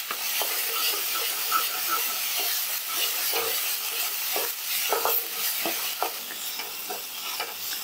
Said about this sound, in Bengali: নারকেল আর কাঁচা লঙ্কা বাটাটা বেশ কিছুক্ষণ ধরে আমি রান্না করে নিয়েছি